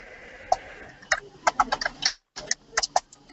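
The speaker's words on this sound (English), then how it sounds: "I can hear her typing." Quick, irregular clicking of keys on a computer keyboard, close by, in bursts with a short pause in the middle.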